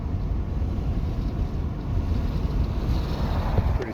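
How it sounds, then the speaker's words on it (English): Strong wind during the Hay River forest fire roars steadily and loudly, buffeting the microphone with a constant low, rumbling rush and no pauses throughout. "And the wind is not really being very cooperative."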